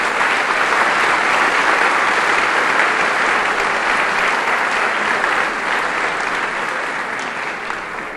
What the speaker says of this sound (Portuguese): E as palmas para o Senhor Jesus Cristo